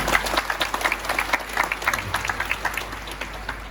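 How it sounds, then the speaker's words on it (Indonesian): An audience at a university gathering in Padang breaks into applause, a dense, steady patter of many hands clapping at once for a few seconds. "tepuk tangan"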